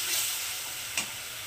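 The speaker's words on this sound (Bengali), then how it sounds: "তো এটাকে এখন একটু ভালো করে কষিয়ে নেব।" Spice paste of turmeric and chilli powder with salt fries in oil in a pan for doi begun, giving a loud, steady sizzling hiss with one faint stir scrape midway.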